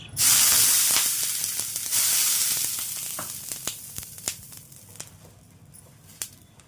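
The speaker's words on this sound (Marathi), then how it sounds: "आपल्या तव्याला मी थोडं पाणी पण शिंपडून घेत आहे" Water sprinkled onto a hot tawa, prepared for moong dal chilla, erupts in a loud hissing burst that fades into scattered sharp crackles and pops as the droplets boil off.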